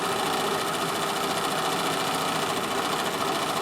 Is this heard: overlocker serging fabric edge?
yes